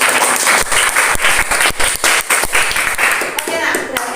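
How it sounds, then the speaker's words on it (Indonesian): A classroom of students applauding a classmate, loud close clapping from many hands in an uneven patter that fades toward the end, with voices mixed in. "Oke, tepuk tangan untuk nomor absen"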